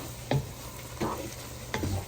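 Ground meat browns in a hot pan, a soft steady sizzle broken by three scraping stirs of a utensil at roughly even intervals, close and fairly quiet.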